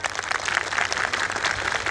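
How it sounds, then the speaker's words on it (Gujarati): A crowd at a folk music evening in Gujarat claps in a dense, steady burst of applause, moderately loud and without talk. "સંસ્થાને પહેલાં જોરદાર તાળીઓથી બતાવો"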